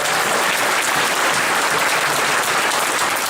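Steady, loud applause from an audience at a Korean talk concert and fan meeting, dense even clapping filling the whole stretch without voices over it.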